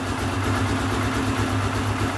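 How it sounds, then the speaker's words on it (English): A new pressure washer's small gas engine idles roughly and steadily, a continuous low chugging drone with a rough, uneven throb, close and alone without voices. "So that doesn't sound like a very good idle there, but once you run it for a while, it's fine."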